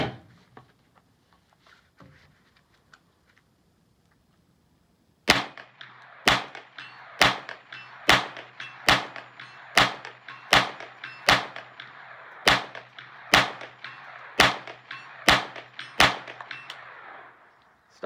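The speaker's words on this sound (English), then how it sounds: "Shooting at 100 yards at a 9-inch gong." Rapid rifle shots from a GSG 15 fired at a 9-inch steel gong 100 yards away, about fifteen sharp cracks at a fast, fairly even pace, each followed by a ringing tail, after a few seconds of quiet.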